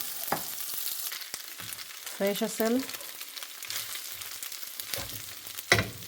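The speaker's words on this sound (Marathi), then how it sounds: "उरलेला राईस आहे हा लेफ्ट ओव्हर, त्याला फोडणी द्यायची आहे" Leftover cooked rice being tempered in a hot pan sizzles and crackles up close, with brief stirring scrapes, while a person speaks briefly over the cooking.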